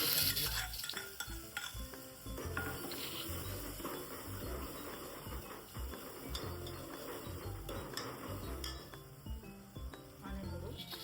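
Ground spice paste thinned with water goes into a pan of sautéed onions for dal, bringing a soft sizzle. Spoon stirring and metal clinks run throughout, and a voice talks over the cooking.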